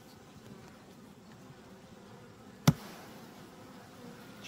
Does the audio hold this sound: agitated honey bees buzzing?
yes